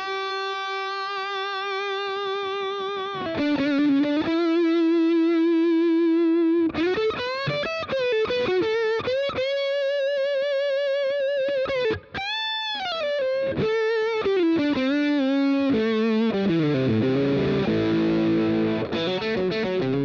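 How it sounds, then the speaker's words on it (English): A Fender Custom Shop Masterbuilt Eric Clapton Stratocaster electric guitar played through a boosted preamp and an overdrive pedal, loud and continuous, with sustained distorted notes, bends and quick note runs, no talking. "Now here it is with the preamp up and with the overdrive pedal on,"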